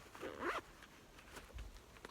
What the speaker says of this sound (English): So that dude folds back in just like that, zips back up.